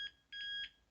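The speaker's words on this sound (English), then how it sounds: "make an audible sound when there's continuity." Continuity tester on a furnace gas valve beeping, a steady electronic tone sounding in two short bursts separated by a brief gap, alone and fairly quiet.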